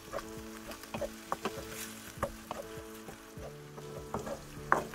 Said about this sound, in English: stir and make sure the sauce is all blended in